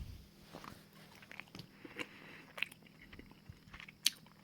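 Someone chewing cooked medlars, with quiet, close mouth noises and soft squishy bites at an irregular pace, plus a few small clicks, faint against a low background with no talking.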